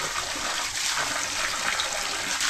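Strong, steady rush of water pouring continuously from a tap, loud and close, with no talking.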